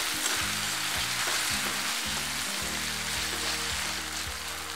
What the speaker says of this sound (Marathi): चांगलं व्यवस्थित हलवत राहायचं असं सारखं।